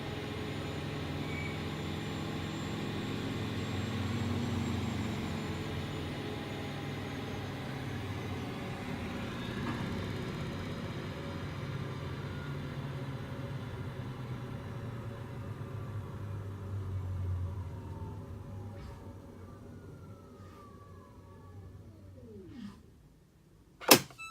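Samsung Quick Drive washing machine drum in a spin brake test: a steady low whirring hum runs for about twenty seconds, then slows with a falling tone, followed by a couple of short clicks and a sharp knock.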